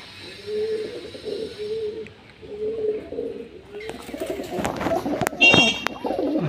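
In a pigeon loft, birds coo in a run of rhythmic, rolling phrases, then sharper clatters, flutters and chirps join in as the flock grows busier, the sounds fairly loud and close.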